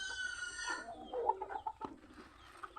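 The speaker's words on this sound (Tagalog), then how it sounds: "Manok!" Farm chickens clucking close by, a short run of excited clucks and squawks that tails off into quieter scattered sounds.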